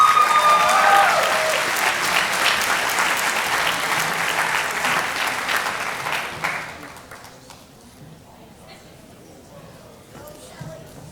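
Applause from the audience at a senior awards and cording ceremony, steady and fairly loud for about six seconds before it fades to quieter room noise with scattered claps.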